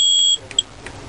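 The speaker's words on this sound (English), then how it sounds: "I will hear the alarm. It means the baking process is done" A Doyon oven's ECM1 controller alarm signals that baking is done: a steady, high electronic beep holds for about a third of a second, then a brief second chirp follows over a quiet room.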